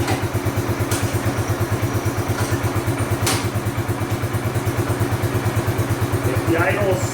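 A Bombardier Quest 650 ATV engine idles steadily close by, a rapid even mechanical putter with light clatter running throughout and a brief scrape near the end.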